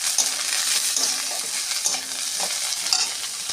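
Potatoes fry in a pan for okra and potato curry, a steady bright sizzle of hot oil with occasional stirring scrapes and light clinks, close and continuous with no voices.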